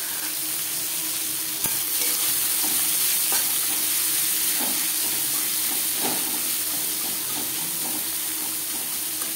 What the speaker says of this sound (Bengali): মাছ ভেজে নেওয়া কড়াইতে আবারও তেল দিয়েছি,